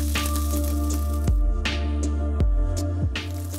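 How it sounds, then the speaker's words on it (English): A Japanese A5 wagyu ribeye steak sizzles in a hot pan, a steady close crackling hiss with occasional sharp pops and spatters. "And then I'll add the steak. You have to hear that sizzle."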